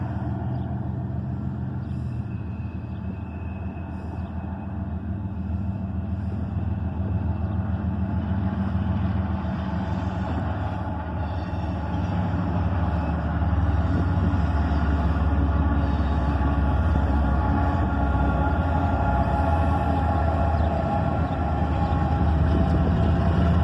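A CSX southbound intermodal freight train led by a single ES44AC locomotive rumbles past on the mainline in a continuous, loud low roar that builds slightly over time, with no voices.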